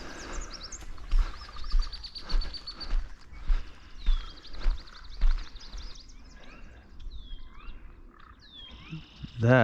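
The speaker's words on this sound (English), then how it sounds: "That was definitely a yellow warbler that just flew by." Yellow warbler chirping outdoors in spring in Nova Scotia, faint repeated high sweet notes among other distant birdsong and scattered thumps, quiet overall with a brief voice.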